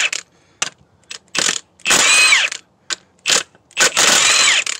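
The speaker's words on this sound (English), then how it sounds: "got left-hand threads, so we're in kill mode on the impact" A pneumatic impact wrench hammers at left-hand-thread ring gear bolts on an 8.5 differential, loud close bursts of rattling blows, about seven in all, separated by short silences.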